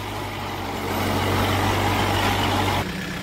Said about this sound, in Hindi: तो भाई अब चला रहा ट्रैक्टर दूसरे लो के अंदर